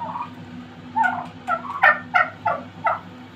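Young Hybrid Converter turkeys on a small farm gobble in a quick series of about six loud, close, warbling calls over a low steady background hum.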